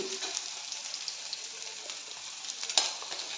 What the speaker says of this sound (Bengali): এই যে আরেকটা ভাজছি